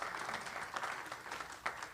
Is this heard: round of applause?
yes